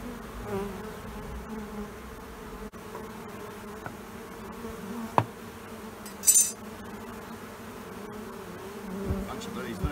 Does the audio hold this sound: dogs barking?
no